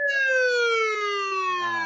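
A siren sound effect wails in one long, loud, slowly descending tone with strong harmonics, heard alone for under two seconds.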